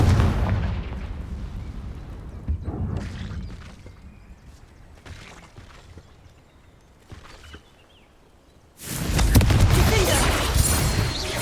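A Confringo fire spell explodes in the Hogwarts Legacy video game as a deep booming blast and rumbling burst that fades into crackling debris, then a second loud roaring burst near the end, heavy and close.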